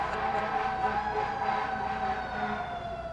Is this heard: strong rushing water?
no